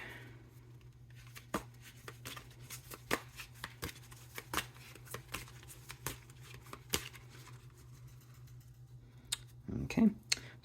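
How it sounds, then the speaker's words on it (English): Tarot cards shuffled by hand for a reading, giving a run of crisp, irregular flicks and riffling snaps, close and fairly faint over a steady low hum, with a louder rustle near the end. "Let's get a little good shuffle here"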